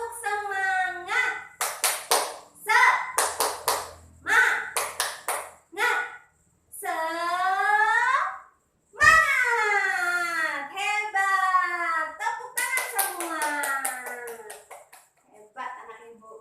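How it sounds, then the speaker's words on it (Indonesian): Children in a primary school classroom perform a rhythmic spirit clap, sharp clusters of hand claps alternating with chanted children's voices and a teacher's voice in a patterned call. "Tepuk semangat."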